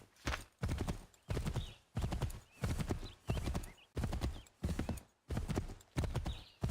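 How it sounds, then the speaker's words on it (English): A horse ridden in Assassin's Creed III beats out a fast, even clip-clop of hooves, with regular loud strikes in a galloping rhythm close by. "Well, I guess we will ride our horse."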